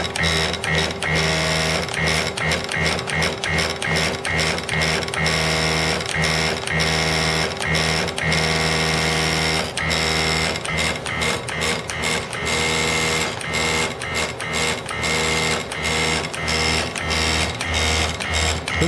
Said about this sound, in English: The vibration speed of the unit can be controlled through this frequency controller, which we can slow the feeder down. We'll speed it up.